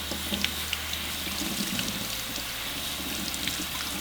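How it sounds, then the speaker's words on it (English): Cold tap water runs steadily into a sink, a continuous close splashing with small irregular spatters as chicken is rinsed under the stream. "So just rinse them with cold water."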